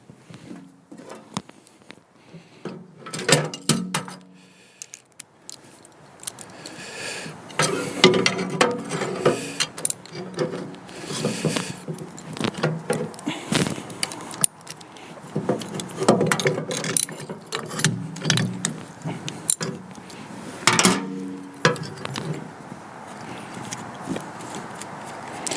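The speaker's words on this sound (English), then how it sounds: "using the same 1/2 inch socket, we'll loosen up these pulleys so that we can take the belt out of the retaining clips here" A 1/2 inch socket wrench loosening pulley bolts on a John Deere snow blower during a belt replacement: repeated close metallic ratchet clicks and clanks in uneven bursts, with tool handling noise in between.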